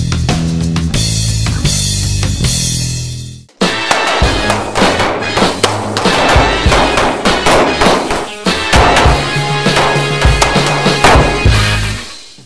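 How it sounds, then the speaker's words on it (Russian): Loud pistol shots crack in rapid, uneven succession, with a short pause before another fast string of sharp reports. "Она поражает мишени и перезаряжает пистолет за секунду."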